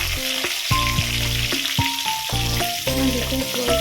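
Onions sizzle and fry in a hot pan for lentil cooking, a dense continuous crackle with occasional stirring clinks, close and fairly loud, with no talking.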